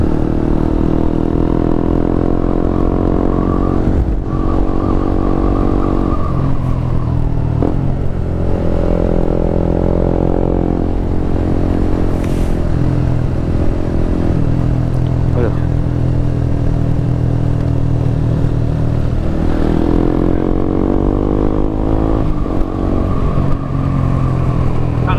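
Motorcycles riding on a mountain road, heard as a steady, loud engine roar with shifting revs and gear changes, close to the microphone and running throughout, with wind and road clatter. A rider talks at times over the noise.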